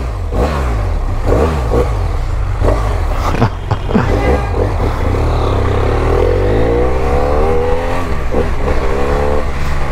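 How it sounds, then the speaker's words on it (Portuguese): BMW F800 motorcycle engine revving hard and close, repeated throttle blips with rising and falling pitch, then a long climbing rev toward the end, loud throughout. "Ah, pelo menos uma tirada de giro eu vou mandar."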